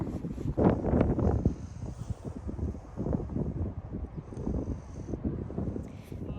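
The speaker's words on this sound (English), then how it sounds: "I will start by apologising for the sound of the wind." Strong wind howls across an outdoor horse-riding arena on a stormy day, a steady gusting rumble that fills the whole stretch with no clear pauses.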